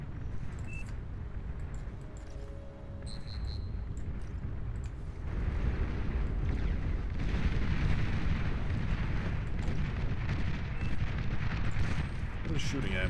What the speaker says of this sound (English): What is shooting at me? Oh, hounds.